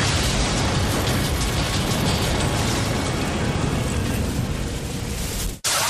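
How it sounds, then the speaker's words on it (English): Homemade truck bomb exploding outside the Murrah building in Oklahoma City, a loud sustained blast and rumble lasting several seconds before a sudden cutoff. "A bomb explodes outside the Murrah building in Oklahoma City."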